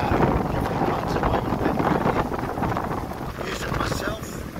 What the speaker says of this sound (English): It's pulling all the air in. So there's a lot of wind.